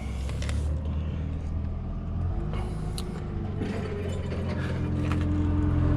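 Sunroof motor on a 2007 Mercedes ML63 AMG luxury crossover whirring as the roof opens, a steady close mechanical drone with faint clicks and rattles throughout.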